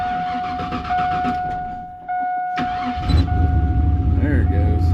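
A Chevrolet Silverado truck engine cranks and catches, a brief starter whir followed by a steady, loud idle rumble, with people talking over a constant electronic tone in the background.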